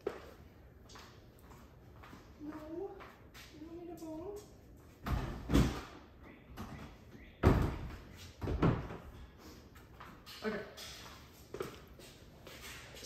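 A pantry door in a home kitchen is shut, with several distinct thuds and knocks amid footsteps and shuffling, while a person talks nearby.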